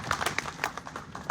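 An audience at a civic felicitation ceremony claps in a short burst of scattered, fairly close applause, with no voices over it.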